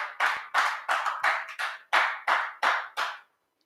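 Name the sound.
audience applause for the praise team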